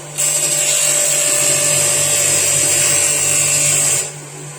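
Portable spectro sample polisher for laboratory use whirs up abruptly into a steady, loud high-pitched whine, runs evenly for about four seconds, then cuts off and winds down.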